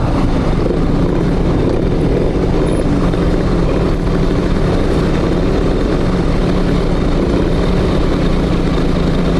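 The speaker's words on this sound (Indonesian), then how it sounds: "Mesinnya suara mesinnya itu udah kasar semua itu loh dah" A Yamaha F1ZR two-stroke motorcycle engine fitted with a Nova Dash exhaust idles steadily with a rough, raspy drone, loud and close, holding an even note throughout.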